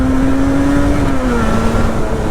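A Yamaha RD two-stroke motorcycle with YPVS engaged holds a loud steady engine drone while riding, the pitch sliding slightly, with strong wind rush and no speech.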